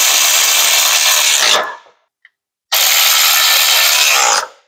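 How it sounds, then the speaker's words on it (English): Power tool bolts a jack down onto a Harbor Freight 20-ton shop press: two loud, steady bursts of about one and a half seconds each, separated by a short pause with a faint tick. "simply put the jack back onto the shop press and bolt it down."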